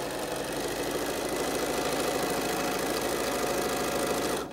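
A sewing machine stitching bias tape onto a fabric mask, running in one steady, rapid mechanical whir with fast repeated needle ticks from close by until it stops at the end.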